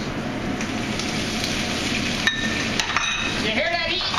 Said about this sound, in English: You hear that heat? You hear that heat? That's a hot pan.